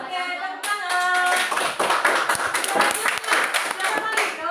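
A class of students claps together on a teacher's cue, a dense, fast burst of overlapping hand claps that starts abruptly and keeps going, with a voice speaking briefly just before it begins.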